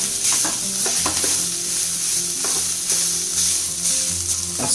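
Rice going into a pan of sizzling lemon rice tempering with turmeric and being stirred, making a steady loud frying hiss with scraping strokes of the spoon throughout.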